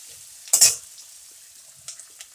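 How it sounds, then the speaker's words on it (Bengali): A spoon stirs ginger and garlic in a pan for lota fish vorta, giving one sharp scraping sizzle burst followed by quieter light clinks and soft frying, all close. "আদা দিয়ে দেব, রসুন, তারপরে দিয়ে একটু নেড়ে নিই"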